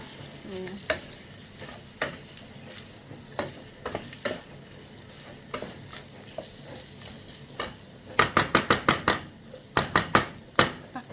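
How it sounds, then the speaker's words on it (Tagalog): Chicken gizzard sisig cooking in a pan as onions and condiments are stirred through, giving a steady soft sizzle under repeated scraping strokes that build into a quick burst of rhythmic stirring near the end. "haluin natin kaya para mag-absorb ang sibuyas at ang mga condiments"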